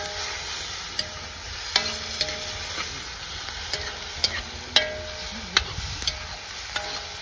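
Chicken being stirred with ginger-garlic paste in a pan for a desi-style local chicken dish, with a soft steady sizzle and sharp scraping clicks of the spoon against the pan every second or so.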